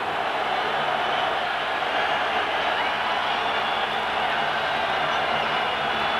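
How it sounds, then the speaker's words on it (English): Home crowd at a 1994 Penn State at Michigan college football game roars on a fourth-down play. The roar is a loud, constant wash of stadium noise that holds steady from start to finish. "And the home crowd comes up roaring."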